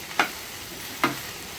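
Okra coated in spice masala is stirred in a pan over a low sizzle, with two quick, distinct scraping strokes about a second apart.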